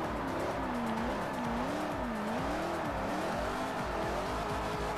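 A 1959 Cadillac, rear-wheel drive, drifting in a racing video game: a continuous engine drone wavers up and down in pitch as the car slides, with tire squeal throughout and no talk.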